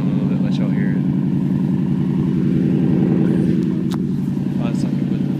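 Close, loud truck engine with a deep, choppy, pulsing rumble that surges as it revs, with a voice talking briefly over it.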